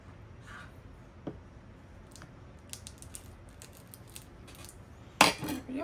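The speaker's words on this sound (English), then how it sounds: "Let's cut a slice off." A knife slices through Aldi truffle cheese, with light ticking taps on the board, then a louder close scrape and clatter at the end.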